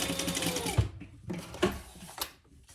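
A sewing machine stitches fabric for a pouch in short bursts of rapid mechanical whirring, with brief pauses between runs, close up.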